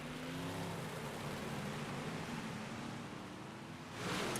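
Big block modified race cars run at Fairbury in the iRacing sim, their engines blending into a steady, distant roar with a broad, washy drone and a slight swell near the end.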